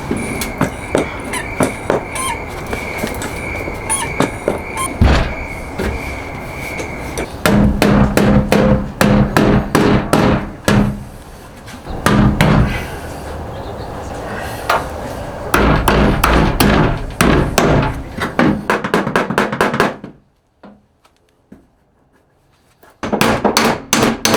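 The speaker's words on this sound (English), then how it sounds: "I smooth out the rest with a body hammer set" A body hammer smooths dents in a Toyota Tacoma truck bedside, sharp metallic blows ringing out in rapid bursts, pausing briefly before resuming, with one longer silent gap near the end.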